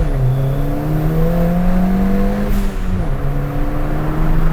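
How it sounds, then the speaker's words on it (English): Ford Fiesta ST with a Milltek exhaust driving down an empty country lane at night, loud steady engine drone from inside with a shifting pitch and a brief dip like a gear change. "but we'll get some nice blow-off noises."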